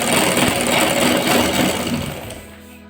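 A sewing machine stitches the seat seam of a pair of trousers. The motor runs loud and close with a continuous rapid whir, then winds down and fades near the end.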